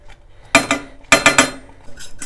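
Utensil stirring chocolate profiterole cream in a pot, a few quick clinking scrapes in two clusters against the pot, close and distinct with quieter stirring between.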